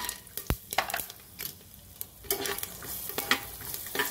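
Asafoetida and peanuts sautéing in a pan for millet (bajra) upma, a steady close sizzle broken by sharp scrapes and clinks of a spoon stirring against the pan, with no voices.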